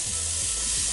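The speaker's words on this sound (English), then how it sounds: "we're gonna take these big, juicy New York strip steaks, get them going" Big New York strip steaks sizzling in a hot pan: a loud, continuous hiss and crackle lasting about a second, with no voices.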